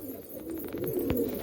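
A domestic pigeon gives a soft, low coo, short and close by, over a quiet background hum with no talking.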